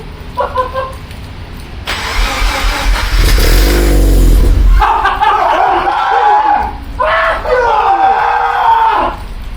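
A Mazda RX-7 13B rotary engine swapped into a Subaru BRZ cranks and fires up for the first time, roaring loudly and revving unevenly while people shout and cheer excitedly over it.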